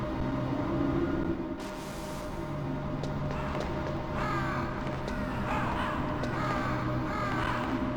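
Crows cawing in the Metal Gear Solid video game, repeated harsh calls at moderate distance over a steady low ambient hum, several caws clustered in the latter half.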